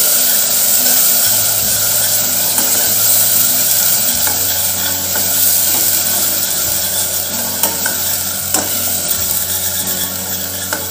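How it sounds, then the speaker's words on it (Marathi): Green masala paste for Khandeshi urad dal sautés on low heat in a pressure cooker, with a steady close sizzle and continuous scraping and stirring of a spoon across the metal base throughout. "त्यात हिरवे वाटण टाकते आता, आता आपण कमी गॅसवर छान परतवून घेऊया मसाला।"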